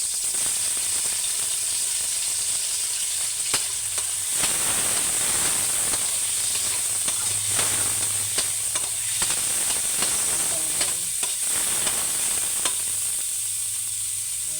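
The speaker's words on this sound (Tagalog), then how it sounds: "Mag-saute ulit tayo guys ng bawang. Sibuyas." Garlic and onion sauté in a pan for kangkong with tofu, a steady close sizzle with scattered clinks and scrapes of stirring, no talking.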